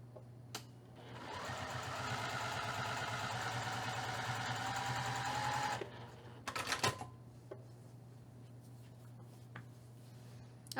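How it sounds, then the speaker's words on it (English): A sewing machine runs a steady stitching burst of about five seconds along the edge of patchwork fabric pieces at a quarter-inch seam, then stops, followed by a few faint clicks and handling noises. "I'm going to sew this edge again using 1/4 of an inch seam allowance"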